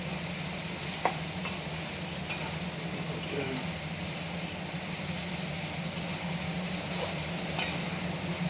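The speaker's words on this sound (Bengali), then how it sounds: "এটাকে এবার নেড়ে চেড়ে একটু ভাজা ভাজা করে মশলাটা কষাবো।" Onion, garlic, cumin, ginger and green chili paste stir-fried in a pan, giving a steady, close sizzle with occasional sharp scrapes and clicks of the stirring utensil, and no talking.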